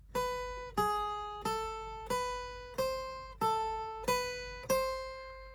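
A beginner guitar lead exercise on the first string: seven distinct plucked notes at an even pace, each ringing and decaying before the next, played alone and clearly.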